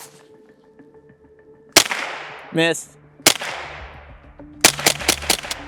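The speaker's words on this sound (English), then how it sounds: "So we'll shoot it again" Sharp rifle shots from a Ruger 10-22 firing home defense rounds outdoors: several loud cracks spaced apart, then a quick cluster of three or four shots near the end, with a brief voice between them.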